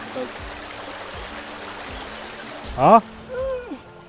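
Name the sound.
mountain river stream flowing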